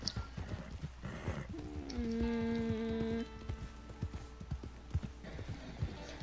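Horse hooves clip-clopping in an irregular patter in Red Dead Redemption 2, with a whinny rising in the middle, over a soft rainy background.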